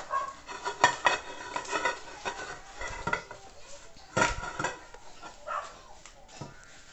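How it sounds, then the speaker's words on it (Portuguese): A child scrubs dishes, pots and cutlery with a sponge at a sink, giving scattered clinks and clatters of utensils and crockery, fairly quiet and close, with soft handling noises between. "Ele pediu para lavar louça e ele está lavando louça, gente."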